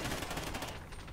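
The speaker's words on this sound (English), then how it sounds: "This gun sounds so weird." A rapid burst of automatic gunfire in Call of Duty: Ghosts, a dense, loud rattle of shots that thins out after a moment.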